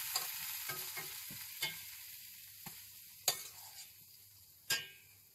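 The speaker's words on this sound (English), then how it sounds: "sizzling away and straight in the oven to crisp" Roast potatoes sizzle in a hot pan aboard a narrowboat, a steady low crackle of frying broken by a few sharp scrapes and clinks, close and moderately quiet with no voices.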